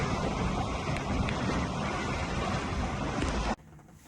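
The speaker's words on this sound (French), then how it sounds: "Un départ de Hendaye, un petit peu difficile, avec des grosses rafales" Strong wind gusts roar over a sailboat leaving Hendaye, a loud, steady blast of wind buffeting the microphone with water noise beneath, cutting off abruptly near the end.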